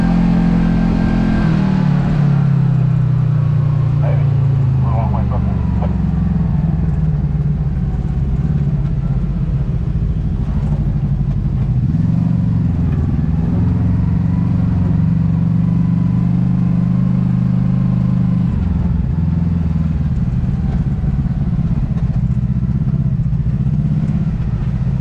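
A Kawasaki KRX side-by-side's engine drones steadily as it drives a trail around Moab at high altitude, with rough clatter and shifts in revs running throughout, close and loud with no talking.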